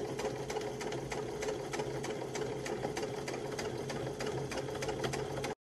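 A sewing machine stitches down a pressed, folded fabric edge with a fast, steady mechanical chatter, close and constant for several seconds before it stops abruptly at the end.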